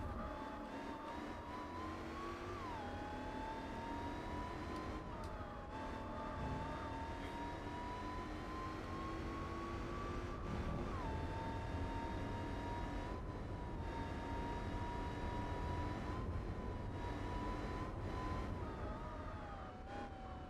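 Supercharged 4.2 liter V8 race car engine in Gran Turismo 4 holds a loud, steady high-revving drone, pitch dipping briefly at gear shifts and climbing again on uphill sections, continuous and close throughout.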